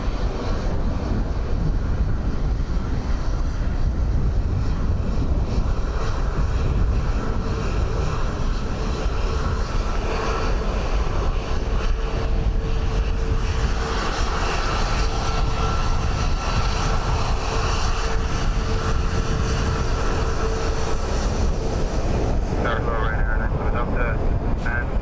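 An aircraft lands at Dublin Airport on runway 28 left in a gusty wind of about 14 knots, its steady engine roar held throughout under constant wind buffeting, with air traffic radio voices talking over it.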